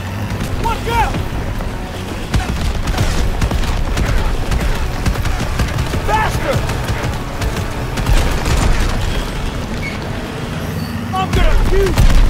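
Gunfire and booming blasts during a World War II car chase in Call of Duty: WW2, loud and continuous over engine and road noise, with shouted voices throughout.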